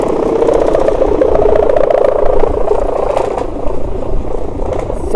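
A large bull kite flying high in strong wind gives off a loud, continuous droning roar, a steady buzzing hum with a slight pulsing waver that holds for the whole stretch and has no talk over it.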